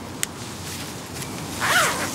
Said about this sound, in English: you will just open the zipper, and then the jacket holds up like this